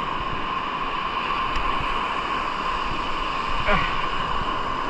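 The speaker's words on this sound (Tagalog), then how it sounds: "Laking alon." Steady roar of sea surf during shore fishing with an ultralight casting rig at high tide, broadband and continuous with wind noise on the microphone and no clear individual wave breaks.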